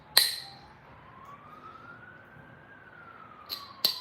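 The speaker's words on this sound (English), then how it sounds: "It's our first ambulance." An ambulance siren wails in the distance as it passes, a faint slow rising and falling tone under sharp nearby knocks from stone being knapped.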